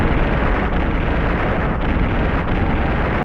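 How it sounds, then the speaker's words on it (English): Explosion sound effects from the film Shin Ultraman rumble continuously, a dense, loud roar of blasts running into one another with no pauses. "right down to the explosions cutting each other off when they go in rapid succession"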